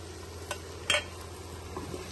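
Onions and ginger frying in a pot for mutton curry, a steady low sizzle broken by a few sharp scraping clinks of a spoon stirring, close and alone.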